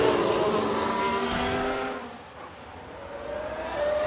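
A Ferrari race car on track in the F1 Manager 22 video game, its high engine whine rising and falling as it passes, with a brief tyre squeal, loud and close.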